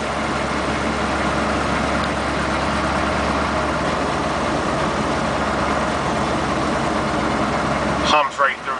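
A K30 pickup with a 6.2 diesel, an NV4500 gearbox and 4.10 gears hums steadily in fifth gear just over idle at 25 to 30 mph through town, a low continuous drone with a brief sound near the end.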